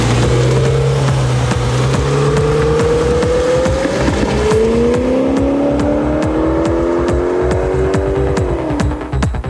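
A tuned family sports car aiming for over 300 km/h roars loudly as it speeds past, its pitch climbing through gear changes before dropping away at the end.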